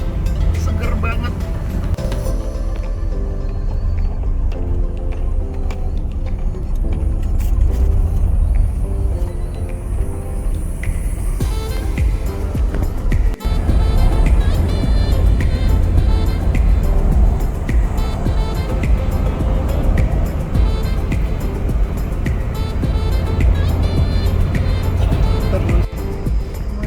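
A car driving along a smooth road through forest on the Meulaboh–Takengon route, a steady loud engine and road rumble throughout, with people talking over it.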